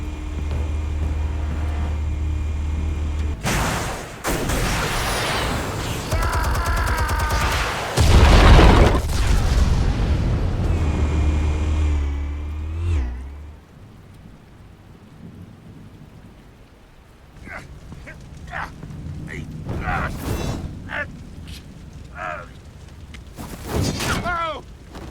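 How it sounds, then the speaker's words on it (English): Explosives go off in Batman: The Telltale Series, with deep booming blasts and rumbling debris over heavy storm-like ambience, followed by quieter scattered impacts; characters talk in between. "Explosives armed. Fire when ready."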